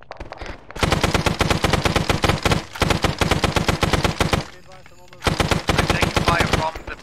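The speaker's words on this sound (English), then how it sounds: "Friendlies are shooting at me." Long automatic bursts of rifle and machine-gun fire from friendly soldiers in Arma 3 Vietnam, rapid loud rattling volleys separated by a couple of brief pauses, heard close.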